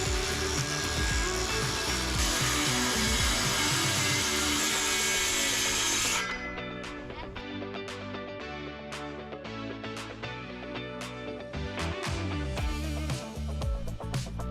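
Power saw cutting a plywood sheet screwed to another plywood piece for a DIY bike ramp: a loud, steady whine runs for about six seconds, then cuts off, leaving scattered clicks and knocks.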